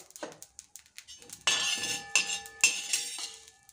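Roasted coriander seeds, cumin, cardamom and dried red chillies being scraped from a pan onto a plate, giving a run of light clinks and taps followed by louder, denser scraping and rattling bursts close by, with no talk.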